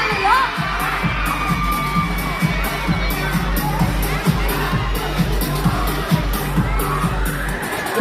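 A festival crowd at the SB19 fan event cheers on game contestants, with loud continuous shouting, whoops and excited children's voices forming a steady roar, pulsing with rhythmic bursts throughout.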